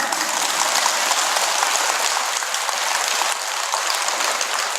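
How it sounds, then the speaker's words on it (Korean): A Buddhist temple congregation at a dharma talk at Jogyesa claps together in steady, dense applause that stays loud and even throughout, with a hiss-like texture. "박수 쳐"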